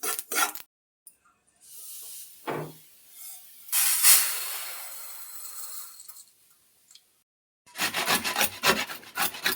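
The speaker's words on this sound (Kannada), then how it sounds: "ಅರ್ಧ ಹೋಳು ಕೊಬ್ಬರಿ ಇಟ್ಕೊಂಡಿದ್ನಲ್ಲ ಅದನ್ನು ತುರ್ಕೊಳ್ತಾ ಇದ್ದೀನಿ." Half a coconut grated by hand for sesame laddu, giving short rasping, scraping bursts in irregular strokes, close and fairly loud, with quiet pauses between.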